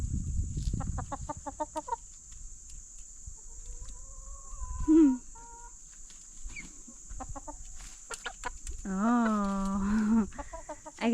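Backyard chickens and guinea fowl being fed sweet grapes cluck in short bursts near and far, with a longer run of calls near the end, while someone talks softly to them between the calls.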